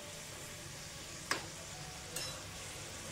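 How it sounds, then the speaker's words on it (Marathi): Coconut-filled modak dumplings fry in hot oil over a medium flame, giving a faint, steady sizzle broken by two brief metallic clinks. "आपल्याला सुरुवात करायची आहे मोदक टाकण्यासाठी तेलामध्ये तळण्यासाठी"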